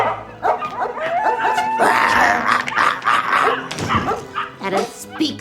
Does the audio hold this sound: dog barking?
yes